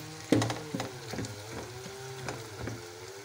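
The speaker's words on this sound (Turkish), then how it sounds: "Şimdi soğanlar epey bir sotelendi." Onions sauté in a pot for onion soup, giving a soft close sizzle broken by a sharp knock and several scraping stirs of a spoon at irregular intervals.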